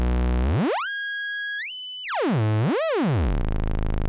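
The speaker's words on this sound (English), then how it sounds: "you can play this as like a very simple one knob oscillator" A guitar pedal played as a one-knob oscillator: a synthetic tone glides up, holds, jumps higher, then dives and sweeps back up in a swooping chirp before dissolving into buzzy noise.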